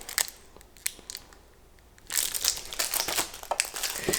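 A Little Debbie Nutty Buddy wafer wrapper crinkles up close, starting with a few sparse crackles and then bursting into sustained, busy plastic crumpling and rustling as it is handled and opened.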